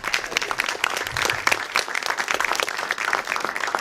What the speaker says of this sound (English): So everyone, round of applause for Vivek.